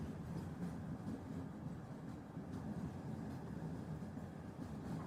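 A train runs at a small station, a steady low rumble of rolling carriages with faint rhythmic rail clatter, continuous and moderately quiet throughout, with no one speaking.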